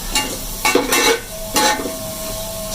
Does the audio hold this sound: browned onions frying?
yes